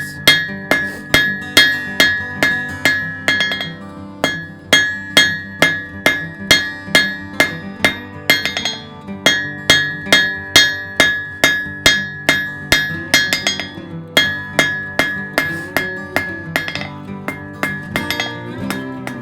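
Rhythmic metal-on-metal hammer blows ring out as a blacksmith forges the square body of a nail on an anvil, steady close strikes with bright clinks and short pauses between bursts.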